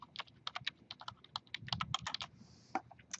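Quick, irregular typing on a computer keyboard, close and quiet, with a brief pause partway through and no speech.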